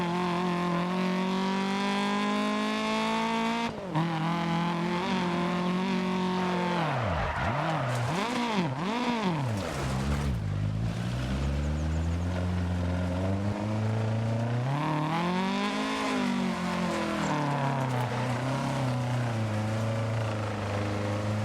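A rally car's engine in a racing video game revs hard and continuously, its pitch climbing and dropping through repeated gear changes and sweeping wavering swells.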